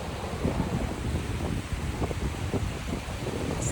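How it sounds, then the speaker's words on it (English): Steady wind buffets the microphone beside a river in the Ozarks, a constant rushing roar with gusty low rumbles and no voices. "little windy up here with the river."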